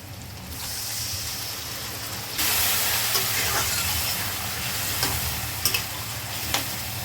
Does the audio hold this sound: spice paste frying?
yes